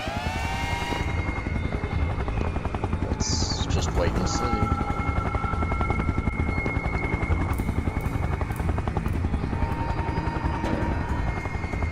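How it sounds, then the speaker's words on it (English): A hovering helicopter in the video game SCP: Containment Breach, a steady rapid rotor chop running the whole time, with a person talking over it. "I thought maybe walking over that triggered the helicopter"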